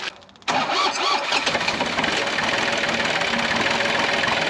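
An old Takeuchi excavator diesel engine cranks and fires after a short quieter moment, then runs loud and rough with a knocking idle close by, with no talking.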